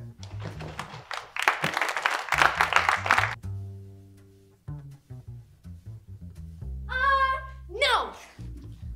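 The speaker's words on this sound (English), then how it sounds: "You will now clap for the tech crew." An audience at a stage show claps for the tech crew in a dense burst of applause lasting about two seconds, set between stretches of talking and sung voices.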